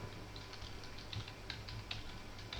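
Rapid, close keystrokes on a computer keyboard enter a MySQL database name in bursts of light clicks, quiet and without any talking.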